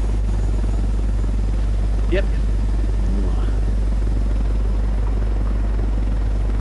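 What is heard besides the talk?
helicopter flying in the video game Ghost Recon Wildlands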